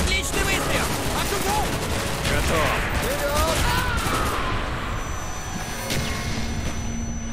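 Dense, continuous bursts of gunfire in the video game Call of Duty: Black Ops fill the scene, loud and steady throughout, with a person talking over the shooting.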